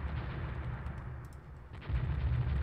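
Naval gunfire from a light cruiser in the strategy game Rule the Waves: a low, rumbling, continuous barrage of booms that swells louder near the end, with no talking.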